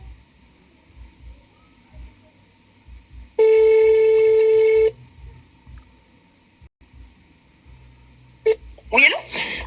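A telephone is used to place a call, with a steady tone held for about a second and a half and brief beeps near the end. A person talks quietly around it in French.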